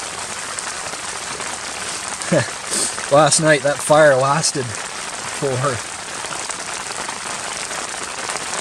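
Rain falls steadily at a mountain campsite, a constant close hiss of drops, while someone speaks briefly over it in the middle.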